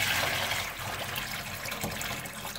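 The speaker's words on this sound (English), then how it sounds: "just enough water to cover them." Water poured over cooked chickpeas to just cover them, a steady close splashing and trickling fill lasting throughout, with no talking.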